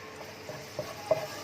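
Finely chopped garlic, about a spoonful, frying in a pan, a soft steady sizzle with faint stirring scrapes close by, no voices.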